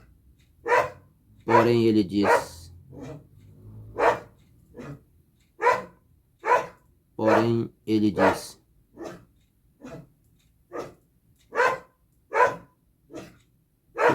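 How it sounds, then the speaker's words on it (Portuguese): A dog barks repeatedly in sharp, evenly spaced bursts, fairly close and loud, while a man preaches a sermon in Portuguese, his voice weaving between the barks. "tem um cachorro latindo aqui"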